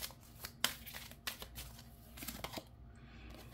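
Tarot cards being shuffled to draw another card, a faint, soft riffling with a few sharper snaps scattered through a few seconds, no talking.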